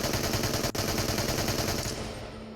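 Sustained full-auto burst from a gun in the Into The Radius VR game, a loud, dense, rapid stream of shots firing without a break for about two seconds and then tailing off.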